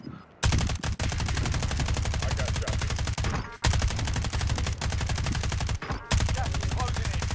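Dense, loud automatic gunfire in Call of Duty: Warzone, rattling almost nonstop with two brief gaps, heavy and close with a low-end punch throughout.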